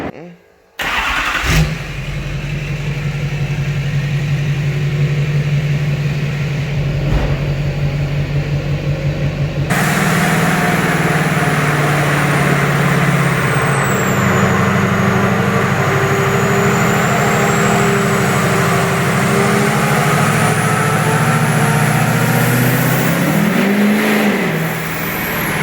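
A stock Duramax diesel pickup truck runs on a dynamometer at about 35% load, its loud, steady engine drone holding strong and continuous for the whole stretch with a low rumble and a rise near the end.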